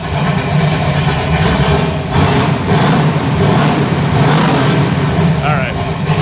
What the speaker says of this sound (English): We'll give it a rev.